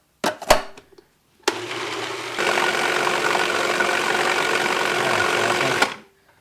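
Blender whirring through the final blend of homemade hummus with garlic: a couple of brief clunks, then the motor starts and runs as a steady, fairly loud, even drone for about four seconds before cutting off.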